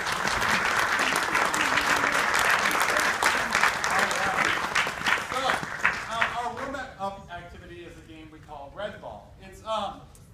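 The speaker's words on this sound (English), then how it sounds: "Big round of applause for these guys." An audience at a junior theatre improv performance gives a loud round of applause that gradually thins out and tapers off, with a voice speaking over the dying claps toward the end.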